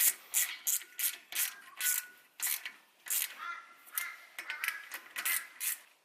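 Ratchet wrench tightening new nuts on a 4WD wheel hub, a series of sharp, close ratcheting bursts in irregular short runs separated by brief pauses, with no talk.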